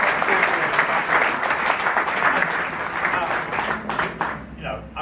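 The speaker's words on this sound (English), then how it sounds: "A round of applause, I think." Theatre audience applauding at a pantomime launch event, steady dense clapping throughout that thins out near the end, with some voices audible underneath.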